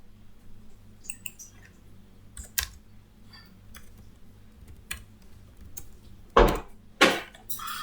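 Sparse, irregular key clicks tap on a keyboard, quiet and close, with a couple of louder thumps near the end.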